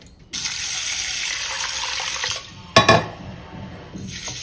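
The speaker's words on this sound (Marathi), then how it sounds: "हे कोळी दोन ते तीन वेळा पाण्याने स्वच्छ धुवून घ्यायचं" Running water pours steadily into a vessel, with a brief clatter partway through as horse gram is rinsed and stirred under the stream.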